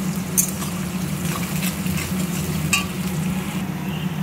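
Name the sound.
onions frying and being stirred in oil with cumin and garam masala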